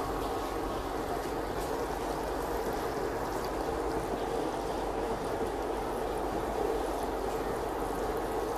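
Phad Thai sauce made with tamarind water simmers on the stove, a dense, steady bubbling and seething noise that holds at an even level throughout.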